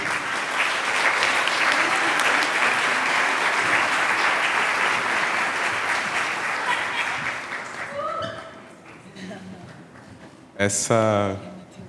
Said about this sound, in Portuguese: Também uma salva de palmas para ela.